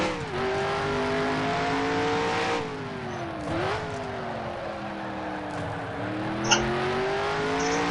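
A Gen 6 stock Cup car engine in Nascar Heat drones steadily through a timed lap at Laguna Seca, pitch rising and dipping with the gear changes, loud and close, with no talk.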